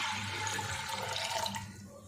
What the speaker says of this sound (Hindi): 4 कप पानी डाल के